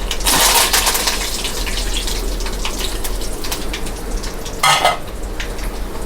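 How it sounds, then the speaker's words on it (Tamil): Curry leaves fry in hot oil during crab cooking, a loud steady crackling sizzle with bursts of sharper spattering near the start and again later, close up with no talking. "நம்ம ரெடியாக வச்சுருக்கிற கருவேப்பிலையை வந்து நம்ம அந்த எண்ணெயில் போடணும்"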